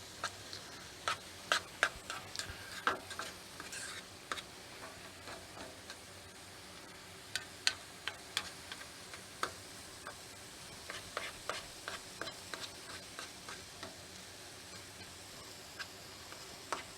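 Minced garlic being stirred in a pan, with faint, irregular clicks and light scrapes of a utensil coming in small clusters against a quiet background.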